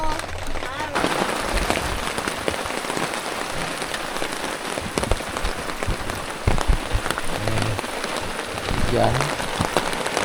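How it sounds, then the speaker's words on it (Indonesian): Steady rain falls on a pine forest campsite, a dense hiss of drops on surfaces lasting throughout, with a few louder patters and faint voices underneath. "Hujan."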